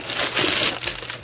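Paper packing from an UGG Kesey boots box crinkles and rustles up close, a brief burst of crisp crumpling that peaks midway and then eases off, with no talking.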